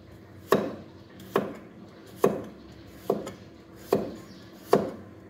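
A knife slices papaya thinly on a board, giving six crisp, evenly spaced chops about a second apart, close and clear against a quiet kitchen background.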